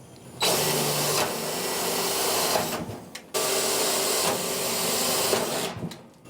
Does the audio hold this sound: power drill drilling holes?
yes